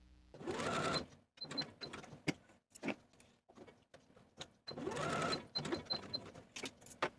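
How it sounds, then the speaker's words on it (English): A sewing machine runs basting stitches along the armholes of a romper bodice, in two sustained bursts of steady whirring with short stops, clicks and handling noises between them. "sew basting stitches for both armholes from notch to notch"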